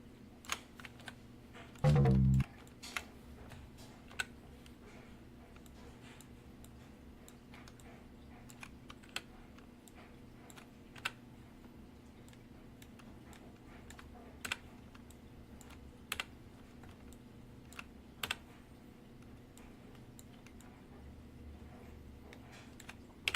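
Keys clack sparsely on a somewhat flaky computer keyboard, isolated taps spaced a second or two apart over a low steady hum, with one louder thump early on.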